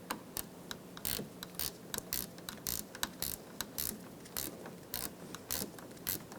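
A wrench ratchets onto the side mirror nuts of a 2003-2007 Honda Accord, giving rapid, evenly spaced clicking bursts close by with brief pauses between strokes.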